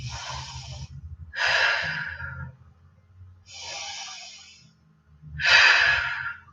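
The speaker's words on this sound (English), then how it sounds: "3 deep breaths" Slow, deep breaths during a strong, slow yoga flow: four long, close airy breath sounds, in and out, spaced evenly over a faint low hum, with no talking.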